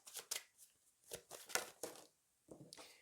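Tarot cards are shuffled and laid out in a series of soft, close riffling and slapping bursts with short pauses between them, faint overall.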